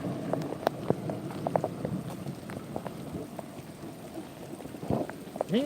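Rain falling on a road during a storm, a dense steady patter of drops with scattered sharper splashes, fairly close and continuous, with no voices.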